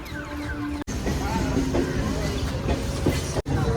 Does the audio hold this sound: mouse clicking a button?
no